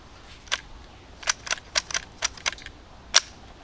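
A frozen AK-47 rifle is struck repeatedly to free its seized action, producing about eight sharp, separate metallic cracks at uneven intervals, close and isolated against quiet background.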